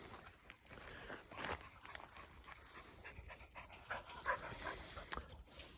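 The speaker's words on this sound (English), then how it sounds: "Toscano, we're on the dog walk" A dog pants in quick, steady breaths close by on a walk, with soft footsteps and slight rustling in the background and no talking.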